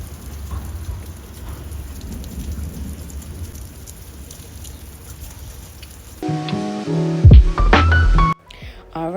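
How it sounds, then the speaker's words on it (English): Steady rain falls on a rainy summer day, a soft continuous hiss for most of the clip, then cut off by louder household clatter and tones near the end. "let us just take a moment to enjoy this lovely rain, this atmosphere"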